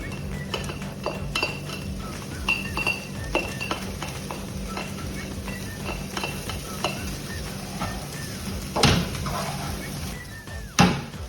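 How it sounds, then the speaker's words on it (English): Vegetables tipped into butter-coated rice in a pot for pilaf-style spiced rice, giving repeated close spoon scrapes and metallic clinks over a low steady sizzle, with a louder clatter near the end. "Now we just add the vegetables."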